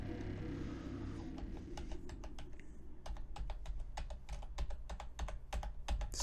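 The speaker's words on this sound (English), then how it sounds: "Smacking around on my keyboard." Rapid clattering keystrokes on a computer keyboard while playing modded Minecraft, irregular and fairly quiet, over a low background hum.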